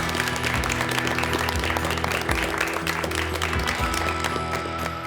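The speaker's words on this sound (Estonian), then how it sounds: "teeme aplausi meie teistele võistkondale ka" An audience claps for competing teams of emergency medical technicians at a contest, dense continuous applause with some music and murmuring voices underneath.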